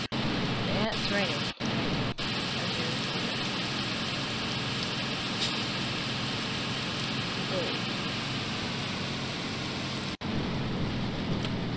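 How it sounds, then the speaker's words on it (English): Steady, dense hiss of rain in the truck-driving game 18 Wheels of Steel fills the whole stretch, constant and moderately loud, with a few abrupt dropouts. "It's raining."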